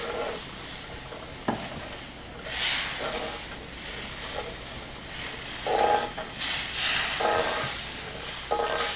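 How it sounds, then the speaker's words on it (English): Turkey gravy for fried turkey chops is stirred in a hot pan until it thickens, with soft scraping strokes and gentle sizzling and bubbling that swell and fade in waves at close range. "Now you want to stir it until it gets thick."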